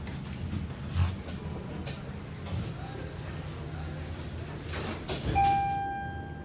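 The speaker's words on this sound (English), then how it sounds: "Shut the doors." Steel Schindler elevator doors at the Old Navy store in the Florida Mall, Orlando, sliding shut with a steady low rumble and a soft thud, followed by a brief high electronic tone, close by and without talk.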